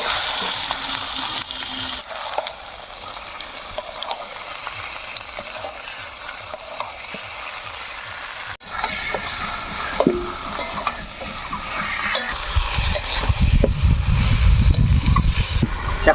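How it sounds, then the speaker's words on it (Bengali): Chicken pieces go into sizzling fried masala and are stirred, giving loud frying hiss and scraping spoon strokes, with a brief dip partway and a louder, heavier sizzle near the end; no one speaks. "আমার কিন্তু মশলা কষা হয়ে গেলে আমরা এখন দিয়ে দিব চিকেনগুলা।"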